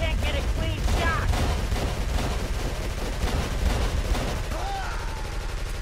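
Gunfire during a police raid in the video game Call of Cthulhu, a dense continuous barrage of shots under a busy game soundscape with occasional tonal effects, fairly loud and unbroken.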